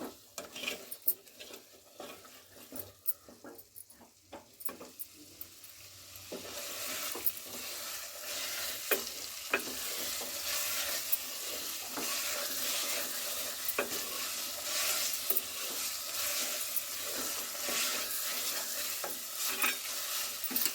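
Chicken korma with chopped coriander and green chilli stirred and frying in oil in a pan, a steady loud sizzle with spoon scrapes building after a quieter start, no voices.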